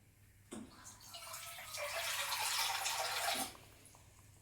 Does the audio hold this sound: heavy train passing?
no